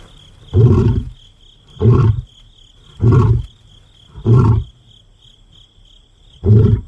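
A wild lion roars in a series of five deep, rhythmic grunting bursts, loud and fairly close, with crickets chirping steadily in the background between calls.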